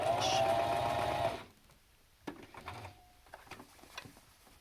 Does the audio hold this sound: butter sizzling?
no